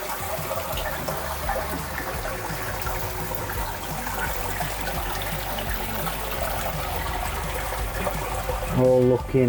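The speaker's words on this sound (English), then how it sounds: "So we're starting to get water come through there." Water trickles and splashes steadily through a koi pond filtration setup during its first fill, a continuous close gurgle with a brief louder burst near the end.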